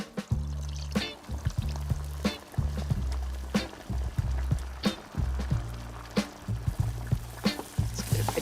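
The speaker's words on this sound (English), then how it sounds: "into this cauldron of bubbling caramel, I'm going to add 250 millilitres of coconut cream" Coconut cream poured into a pan of bubbling caramel, a close liquid pour with repeated sharp sizzling pops and bursts over a low steady bubbling.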